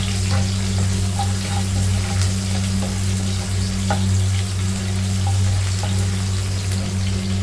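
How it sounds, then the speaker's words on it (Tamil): Steady sizzling of onions frying in hot oil, continuous and fairly loud, with a low constant hum underneath and no voices. "வெங்காயம் நல்லா எண்ணெயில் பொரியட்டும்"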